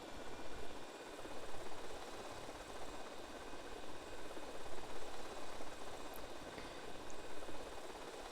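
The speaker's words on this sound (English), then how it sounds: "The toy helicopter." A toy helicopter flies in the video game GTA Vice City, its small engine and rotor giving a steady buzzing whir with gentle pulsing swells throughout, fairly quiet and without speech.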